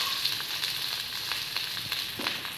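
Steamed freshwater snails sizzling in a hot pan for a Bengali gugli posto dish, with a continuous soft crackle and scattered pops at close range and no voices.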